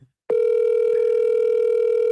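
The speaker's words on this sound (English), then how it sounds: "When Rain don't pick up his phone, we getting too close" A telephone gives a single steady electronic tone that starts abruptly after a short silence and holds, loud and clear, as the call goes unanswered.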